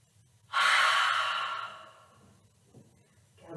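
A single long exhale through the mouth during yoga breathing, a breathy rush starting abruptly, close and clear, slowly fading over about two seconds in a quiet room, followed by a soft fresh breath.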